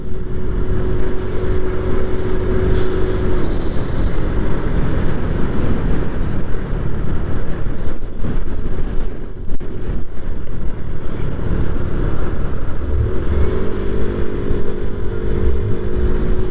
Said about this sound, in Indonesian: Ini anginnya kenceng banget di sini.